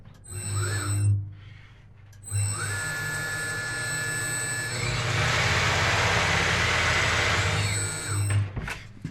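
A Hunter TCX575 tire machine runs at high speed in a shop, a steady high-pitched whining motor drone with a louder, harsher stretch in the middle, rising and fading with short gaps.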